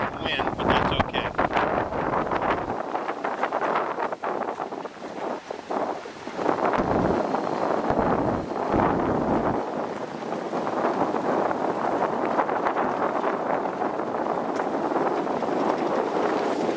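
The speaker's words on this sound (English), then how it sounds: "Just out the window here, you're making some wind, but that's okay." Strong wind buffets through an open car window while driving slowly up a gravel drive on rural Kentucky land, a loud continuous roar with rumbling gusts and no speech.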